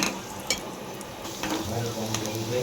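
Garlic chutney sizzles and fries in a generous amount of hot oil in a pan for carrot pickle, a steady close crackle with a few stirring clinks, no talk over it.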